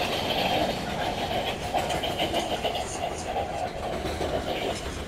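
A New York subway train rolls along underground tracks near Orchard Street with a steady, loud rumble and faint rhythmic clatter throughout; someone talks over the noise.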